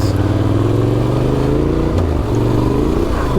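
A Yamaha Tenere 700 Extreme motorcycle engine drones loudly and steadily while riding a woodland dirt road, its pitch rising and falling slightly with the throttle and a brief dip in the middle.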